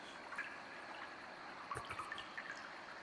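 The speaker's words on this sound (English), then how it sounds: "I can only hear water" Thin trickle of water runs quietly and steadily, with faint drips and small splashes scattered through it, soft and close with no voices.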